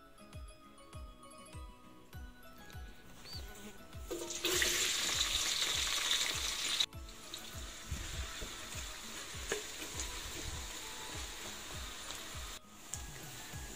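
Sliced onions fry in a large pot with about two cups of oil, giving a steady hiss and sizzle with rhythmic scraping thumps of stirring throughout, fairly quiet and without talk.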